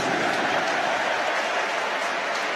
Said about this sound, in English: And McAtee comes on to a huge cheer